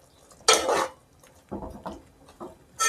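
A spoon scraping and clinking against a pan while ground paste is mixed in, several distinct metallic knocks and scrapes separated by short pauses, close and fairly loud.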